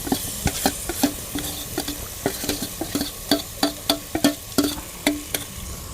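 Mashed roasted eggplant stirred in a sizzling pan, a spoon scraping and clacking against the metal in a quick irregular rhythm over a soft background sizzle.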